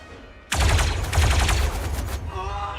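Star Wars: Zero Company video game gunfire, a sudden loud burst of rapid automatic shots and blaster fire lasting over a second and a half, then fading into a lingering tonal effect.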